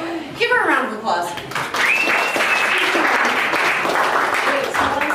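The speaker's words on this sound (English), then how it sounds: "give her a round of applause" A crowd at a real estate team meeting breaks into applause after an enthusiastic voice, a full burst of clapping and cheering that swells and keeps going, with a whistle-like tone rising over it.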